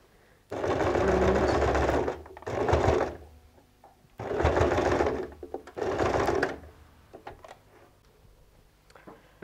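A sewing machine stitches a bag made from recycled denim jeans in four loud, close bursts of rapid whirring, each about two seconds long, separated by quiet pauses with small handling clicks.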